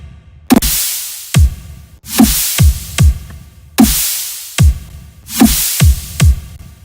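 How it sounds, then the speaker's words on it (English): A simple dubstep kick and snare pattern at 150 BPM, loud and dry, with booming kicks and sharp bright snare hits alternating in a slow half-time groove, repeating four times. "It's just a simple kick snare pattern."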